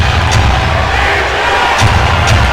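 Arena crowd at an indoor lacrosse game between the Calgary Roughnecks and Portland Lumberjax, a loud, steady roar of cheering and shouting that swells slightly near the end.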